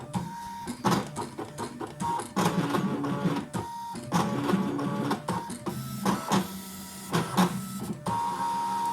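A Brother ScanNCut machine cutting small attachment sections with holes in a gift card holder, its motor whirring and buzzing in repeated close, loud bursts broken by short pauses and steady tones.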